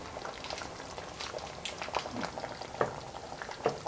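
Fish curry (meen kuzhambu) bubbles in a pot after ten minutes of cooking. Soft, irregular pops and blips of boiling gravy sit over a low simmering hiss. The sound is fairly quiet and nobody speaks.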